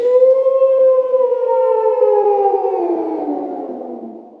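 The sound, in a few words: wolf howling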